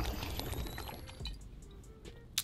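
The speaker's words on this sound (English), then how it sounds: "let me just go ahead and get the Henny White. Let's go ahead and pour" Hennessy White cognac poured into a cup, a close, steady liquid stream lasting a couple of seconds that tapers off, ending with a brief sharp clink.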